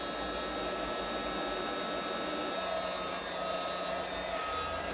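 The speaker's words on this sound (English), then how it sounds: "I usually use the Dyson just because they're more powerful." A Dyson handheld vacuum cleans dust out of a desktop computer, giving a steady, loud, close-up whine and rush of air that holds without a break throughout.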